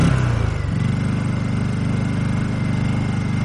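A Honda EU2000i and a Generac IQ2000 inverter generator run side by side, the Honda freshly broken in and the Generac started only that morning, giving a steady, close mechanical hum with a low throb that settles after a brief rise at the start.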